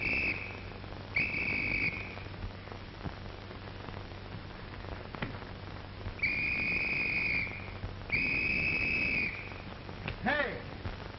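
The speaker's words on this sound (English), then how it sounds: "was you blowing a whistle?" Several sharp, shrill whistle blasts at intervals, some long and steady, one warbling, over a low background hum.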